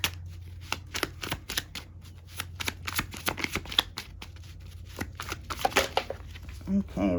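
A tarot deck is shuffled by hand in a steady run of quick riffling flutters and soft card slaps, close and moderately loud over a low background hum.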